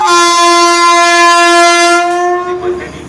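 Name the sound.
Vande Bharat express train arriving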